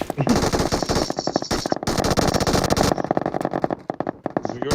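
Rapid machine-gun fire in a shooting video game, dense bursts of fast repeated shots in long strings with brief pauses, loud and close, with a voice talking faintly beneath.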